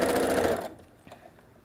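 A sewing machine runs briefly at speed while chain piecing fabric coasters, a dense close whirring that stops abruptly after about half a second, leaving faint room noise and small handling clicks.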